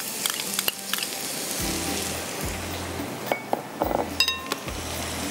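Garlic fries in a pan while making a fruity custard with tarka, a bright steady sizzle with intermittent stirring scrapes and metallic clinks of utensil against the pan.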